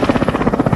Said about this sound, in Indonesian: Joker dan Raptor Man pun berangkat menggunakan helikopter